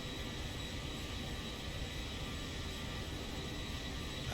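Boeing 737 jet engines in the X-Plane 12 flight simulator, a loud, steady broadband roar with a high whine that holds constant throughout, with no talk over it.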